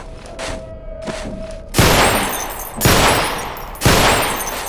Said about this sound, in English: firing from the hip is not an easy business, especially with a sidearm